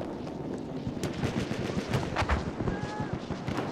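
Rapid machine gun fire rattles in dense bursts amid Battlefield 1 multiplayer battle noise, with a voice talking faintly underneath.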